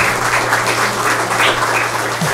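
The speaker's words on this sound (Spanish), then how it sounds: "Queremos rendirle un fuerte aplauso por organizar esta noche tan especial." A church congregation applauding during a Sunday Mass, steady dense clapping that fills the room throughout at close range, with no speech over it.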